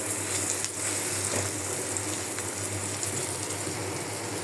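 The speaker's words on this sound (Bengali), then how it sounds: "ডিমেও মশলা দিয়ে একটু জল দিয়ে দিলাম।" Water splashed into a hot pan of frying eggs with spices gives a steady, dense hiss and gurgle that runs evenly throughout, fairly close and with no talking.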